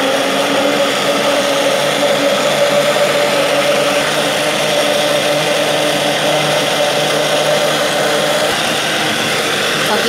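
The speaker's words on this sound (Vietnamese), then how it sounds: "Chúng ta sẽ xay nhuyễn nó lên." A blender purees boiled pumpkin with water for pumpkin milk, a steady loud motor whir running without pause throughout.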